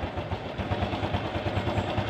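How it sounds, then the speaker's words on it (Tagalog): A cold Honda Wave 110 motorcycle engine, stock regulator and parts, idles with a steady low, rapid thumping pulse and mechanical clatter, close and continuous with no talk. "kickstart muna natin kasi malamig pa yung makina"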